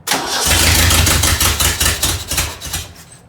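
A Ford Ranger engine cranks on ignition after an engine swap: a loud, close, rapid rhythmic churning of the starter that runs for about three seconds without catching, then cuts off.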